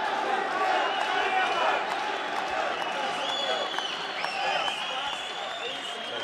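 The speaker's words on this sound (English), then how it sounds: "The crowd is rooting for Sulaimanov." A crowd at an MMA bout roars and cheers for fighter Lenar Suleimanov, a dense, continuous wash of arena noise with scattered shouts and a commentator talking over it.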